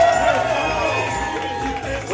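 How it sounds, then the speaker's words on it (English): A wedding party crowd cheering and applauding at an introduction, a dense steady wash of noise with a voice rising above it, fairly loud and close. "Let's have a big round of applause."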